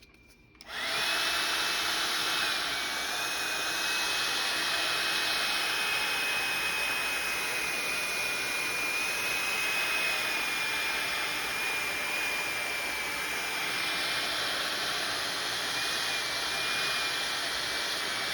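A hair dryer switches on and blows steadily at close range for a long stretch while drying watercolor paint, a constant loud whooshing rush with a thin motor whine on top.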